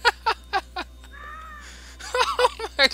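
A bird in the video game Grow Home gives a string of harsh, crow-like caws. The calls come in quick bursts, then a drawn-out call, then another rapid cluster, all fairly close and clear.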